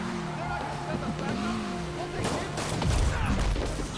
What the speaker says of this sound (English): Yep, that's a high-speed car chase